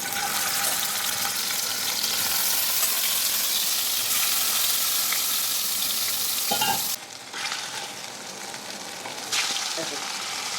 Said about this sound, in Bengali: এবার মাছগুলো ভেজে নেব তেল দিলাম